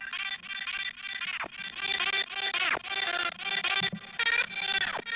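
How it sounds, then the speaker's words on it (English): Harsh, buzzy singing distorted through a guitar amp, with gritty harmonics and phrases breaking off in short sweeping bursts. "there's some really harsh harmonics when you put the guitar amp on vocals."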